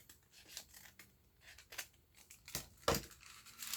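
Scissors snip through journal paper in short, close bursts with crisp crinkling, one louder cut standing out near the end; no one speaks.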